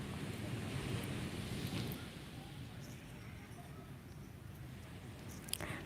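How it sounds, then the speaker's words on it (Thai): Continuous rush of ocean surf washing onto a Phuket beach, with wind buffeting the microphone; the roar swells louder early, then settles. "ได้ยินแต่เสียงคลื่นเนาะ"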